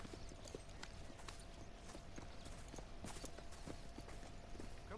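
Horse hooves clip-clop in Red Dead Redemption 2 as a rider travels at an even pace, a steady run of soft, quick hoofbeats under a quiet background with no talking.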